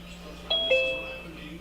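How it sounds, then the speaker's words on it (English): A doorbell rings twice in quick succession, a clear two-tone chime heard indoors over a low steady hum. "I hear Q with the doorbell."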